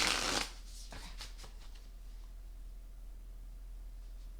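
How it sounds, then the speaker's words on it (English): Astro Matrix tarot cards are shuffled in a brief, close riffle at the start, followed by a few soft card flicks against quiet room tone; one word is spoken. "No, one more shuffle, please."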